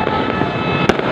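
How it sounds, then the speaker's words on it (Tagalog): Fireworks at a New Year celebration in the Philippines crackle and pop in a dense, continuous burst, with one sharper bang near the end. "nakita mo na yung mga fireworks dyan"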